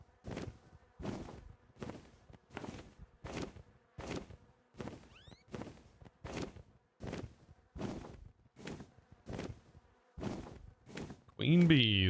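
Bees from the Minecraft Bumblezone mod buzz in steady, evenly spaced pulses roughly twice a second, fairly quiet, ending with a louder, brighter burst of sound.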